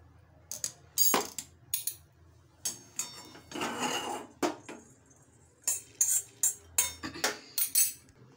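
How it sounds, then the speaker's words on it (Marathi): Roasted black pepper and cloves tipped from a pan into a bowl, a run of sharp clinks and rattles in short bursts. Spice rattles against metal, and one longer scraping pour comes near the middle. "आता मी गॅस बंद करते आणि एका बाउलमध्ये काढून घेते"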